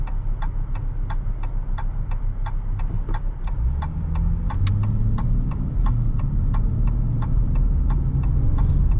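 Inside a 2023 Dodge Challenger SXT, the V6 engine hums low and then rises in pitch as the car accelerates, with a steady rapid ticking, like a turn signal, running over the engine throughout.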